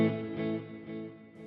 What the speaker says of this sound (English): When we turn on our reverb,